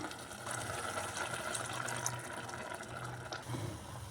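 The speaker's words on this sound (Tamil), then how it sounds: "1 கப் ரைஸுங்கிறதுனால 2 கப் தண்ணி சேர்க்குறேன்." Two cups of water pour into a pot of rice for Davanagere tomato biryani, a steady, continuous close-up gush with no talking.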